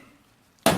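A single sharp click from a torque wrench tightening a barrel nut on a Yamaha TDR250 motorcycle, close and abrupt after near silence.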